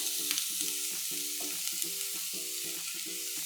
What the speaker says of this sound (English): we'll saute the onion, ginger and garlic until the onion softens and turns light golden brown